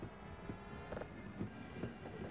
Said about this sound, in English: Now we just sit on the train and wait as we go through a loading screen.